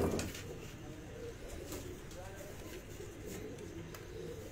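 Pigeons coo softly on a rooftop loft, low throaty calls that are faint and mixed with quiet background noise and a nearby voice.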